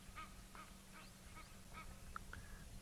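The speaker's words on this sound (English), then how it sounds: "I think the sound of those Egyptian geese," Egyptian geese calling during an afternoon safari drive in South Africa, a string of short nasal honks spaced across the moment, moderately distant over steady low engine or wind rumble.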